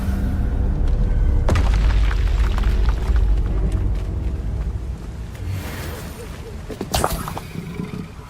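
Confringo spell blasts in Hogwarts Legacy, a loud rumbling roar of magical explosions with sharp cracks near the start and again near the end, fading somewhat in between.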